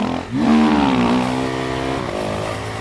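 Motorcycle engine revving up and accelerating hard in second gear to lift a wheelie, a close rising roar that climbs in pitch then holds steady, with no speech.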